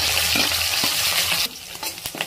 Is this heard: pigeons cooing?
no